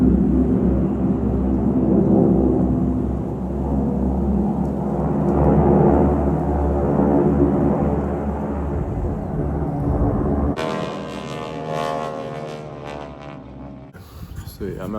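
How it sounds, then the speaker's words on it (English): Low droning propeller roar of World War II aircraft flying at the Camarillo air show, heard from an outdoor deck; a loud, sustained rumble swells and fades over fifteen seconds, with a sharp shift in the noise near the end. "I think those are like some World War II planes or something they're flying."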